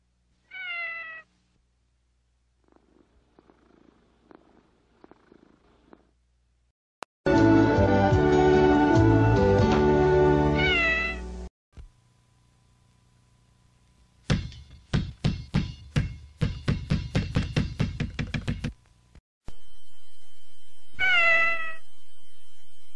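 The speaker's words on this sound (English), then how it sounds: "Come on, meow. Damn cat." A cat meows several times between stretches of other sounds, with a sustained purr-like drone near the end; the meows are close and clear, with no talking.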